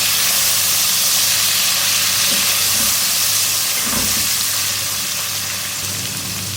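Ginger-garlic paste frying in a hot pan for potato-chickpea pulao, a steady dense sizzle with a broad hiss throughout, fairly loud and unbroken, with no voices over it.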